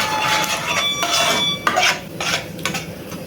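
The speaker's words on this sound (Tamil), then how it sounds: "நல்லா கலக்கி விடுங்க. நல்லா கரண்டியை வச்சு நல்லா அழுத்தி அடுப்பை சிம்முலையே இருக்கட்டும்." Pav bhaji vegetables being stirred and pressed with a ladle in a pan over low heat, scraping metal strokes and soft clinks in an uneven rhythm, close and fairly clear with no talk.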